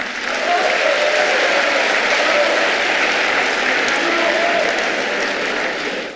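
Steady, dense applause and cheering from a large crowd at a political party rally fills the space continuously, loud and close, greeting the new president of the PDCI RDA after his speech.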